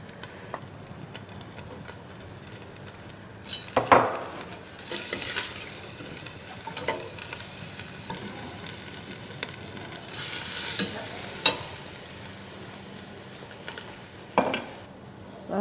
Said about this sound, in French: On va mettre un peu d'huile et ajouter oignons et poivrons